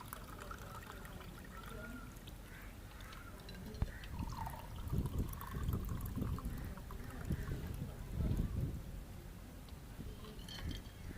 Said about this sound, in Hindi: गिलास में डालेंगे